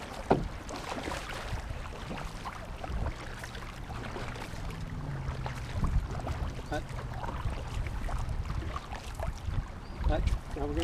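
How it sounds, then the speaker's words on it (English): A canoe is paddled through river current, with splashing paddle strokes, water rushing against the hull and wind buffeting the microphone, all close and continuous. "Now we're going to paddle on the same side and watch what happens."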